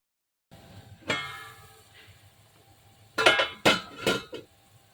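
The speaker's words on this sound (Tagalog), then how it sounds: "Tatakpan ko muna siya." A lid clanks onto a metal pot of chicken macaroni soup on the stove, with a sharp clatter near the start and then several quick, loud metallic clinks close by, and no talk.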